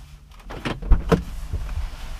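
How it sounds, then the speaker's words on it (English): A BMW 745i E65 7 Series car door opens from inside, a short mechanical clunk and latch release with a brief rustle, close and moderately loud, no talking. "I'll open your door because this is a 7 Series."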